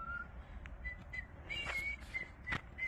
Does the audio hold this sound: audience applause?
no